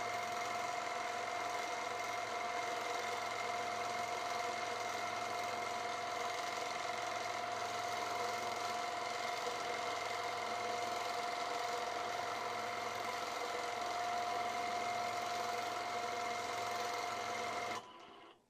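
A sewing machine stitches in a continuous, steady mechanical hum with a fine rapid rhythmic texture, holding even for about eighteen seconds before cutting off abruptly at the end.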